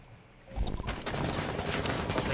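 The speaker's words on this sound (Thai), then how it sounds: "ฮะไมาเสียงปืนมันปั้งแล้วมันหายไปวะ" Sustained automatic gunfire in Rainbow Six Siege, a dense burst of rapid shots starting after a quiet half second and continuing loud to the end, with no talk.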